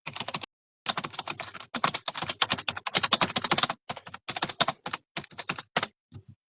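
Rapid keystrokes on a computer keyboard come in dense bursts broken by short pauses, close and fairly loud, with no voices.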